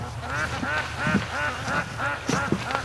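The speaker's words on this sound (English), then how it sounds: "They're quacking up a storm out here." A flock of free-range ducks quacks steadily and loudly at a lake, calls overlapping in a busy chorus outdoors, with no voices.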